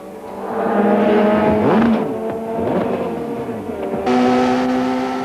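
Race cars from the 1995 South African touring car championship round at the East London circuit roar past loudly, several engines overlapping with Doppler sweeps and gear changes as the field gets underway after a restart.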